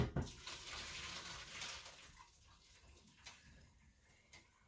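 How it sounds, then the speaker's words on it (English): Water from boiled potatoes is poured off from a pot, giving a steady splashing rush that is loudest at the start and then settles into a softer, continuous trickle with a few small clanks. "So I'll pour off the water."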